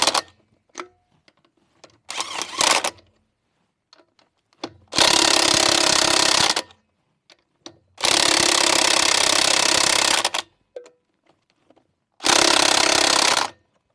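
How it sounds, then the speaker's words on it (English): An impact wrench fitted with a 150 foot-pound torque limiter tightens lug nuts on a Ford F-150 with swollen lug nuts: one short burst, then three long, loud rattling hammering bursts separated by quiet gaps and faint clicks. "I've actually got a torque wrench here for my impact that is 150 foot-pounds exactly"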